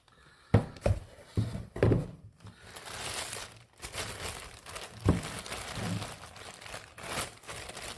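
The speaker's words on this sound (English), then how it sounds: "It is also in a nice plastic bag." A plastic bag wrapped around a boxed odometer and tripometer gauge for an E-body car crinkles close up, with uneven bursts of rustling and a few sharper crunches and taps.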